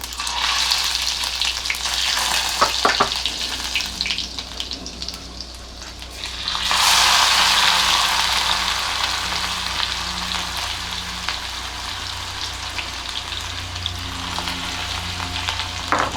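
Crushed garlic, cumin and asafoetida frying in hot oil for a Marathi bharangi vegetable dish, a steady loud sizzle that swells sharply partway through, with faint stirring scrapes and no talk.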